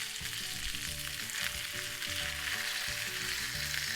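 Capelin frying in a pan, a steady loud sizzle of hot oil crackling continuously around the small fish, with faint low bumps and stirring beneath, close and without speech.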